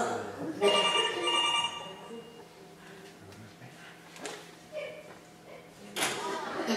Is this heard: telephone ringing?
yes